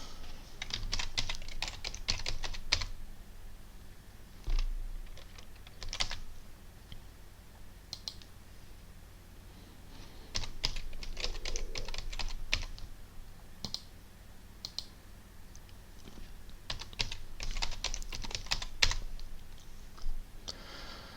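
Fingers type on a computer keyboard to fill in setup fields during a Linux Mint installation, quick clustered keystroke bursts separated by short pauses, close and crisp, with no speech.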